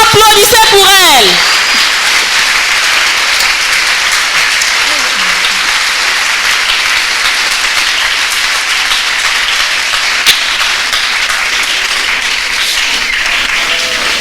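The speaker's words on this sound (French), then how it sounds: "Clap for her." Sustained applause from an audience at a talk on making champions, a long even wash of clapping that starts right after a speaking voice and continues at a steady level.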